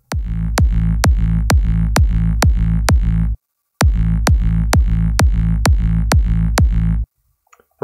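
Layered electronic kick drum combining sub, mid and high tones in FL Studio, thumping loud and punchy in a steady four-on-the-floor pulse with a sharp click on each hit, pausing briefly midway before resuming, then stopping.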